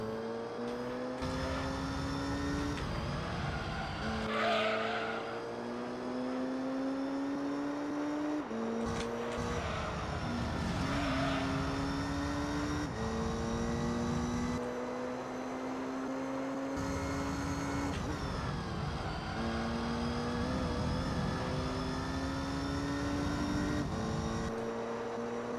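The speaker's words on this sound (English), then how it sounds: "This is a gorgeous fucking race car." The Team Areca Viper race car engine in Gran Turismo 3 at Laguna Seca drones loudly and steadily, its pitch climbing through repeated upshifts with short dips between gears, continuous and close, with no talking.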